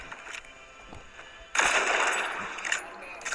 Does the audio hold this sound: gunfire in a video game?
yes